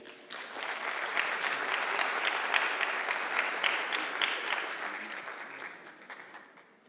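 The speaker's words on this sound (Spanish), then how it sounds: "le brindamos un fuerte aplauso" An audience at a labor procedure law congress applauds a supreme court judge. The clapping is dense and steady, runs alone for about seven seconds and tapers off at the end.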